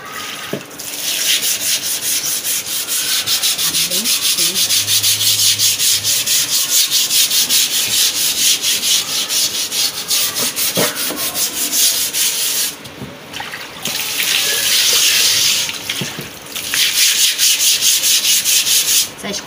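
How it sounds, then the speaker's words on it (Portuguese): An old stiff floor brush scrubs a wet outdoor table with water, a loud continuous close rasping, steady strokes with one brief pause midway and no voices. "vou começar aqui lavando a mesa"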